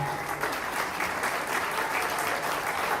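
Steady, dense applause from an audience at a union human rights commission event welcoming invited guests, a continuous even wash of many hands clapping at moderate volume without pause.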